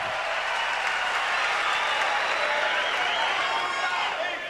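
A tennis stadium crowd at a Miami final roars and cheers steadily for Agassi, a dense, sustained wall of noise with no breaks.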